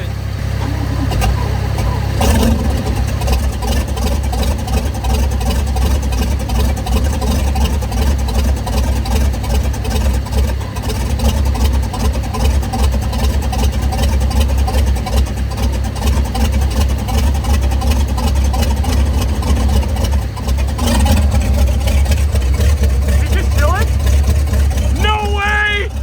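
A Mercruiser 5.7L engine on a boat with an Alpha One drive runs with a loud, steady rumble for the whole stretch, and voices talk over it at times.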